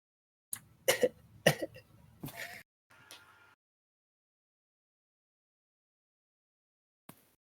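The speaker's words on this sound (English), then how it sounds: "having a coughing fit" A close, harsh coughing fit: several loud hacking coughs in a burst, a strained wheeze, then silence and one last small cough.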